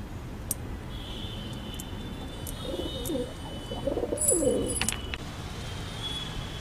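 Desi high-flying pigeons in a Warangal loft coo softly through a low background rumble, with a cluster of throaty coos near the middle.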